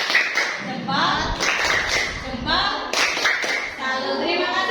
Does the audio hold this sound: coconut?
no